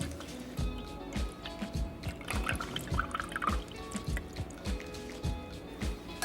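Egg whites poured into a measuring cup while baking cinnamon buns, soft wet glugging and dripping splashes in a steady run, close and quiet against faint kitchen background.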